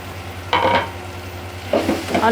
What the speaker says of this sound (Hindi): अभी मैं इसमें डाल देती हूँ आलू